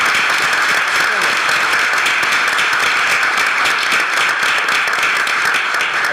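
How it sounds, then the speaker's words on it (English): A city council meeting audience applauds in a dense, steady round of clapping that carries evenly from start to finish with no break. "Let's give one more big round of applause for our inaugural."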